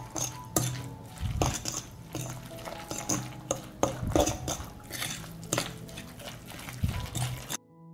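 A utensil stirs food mixed with dry organic seasoning in a pan, giving repeated clinks and scrapes against the metal at an uneven rhythm over a faint sizzle, with no talking.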